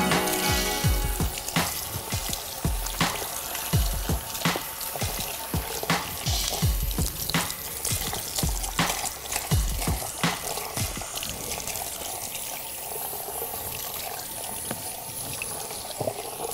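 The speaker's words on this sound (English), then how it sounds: "So we're having a really, really good rinse through." Water runs and splashes while colour is rinsed out of hair at a salon basin, a steady close trickle with irregular spattering bursts and no talk.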